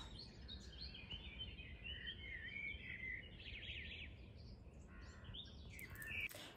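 Early-morning birdsong drifts from a distance, faint overlapping chirps and trills over steady low background noise, with a slightly louder call near the end.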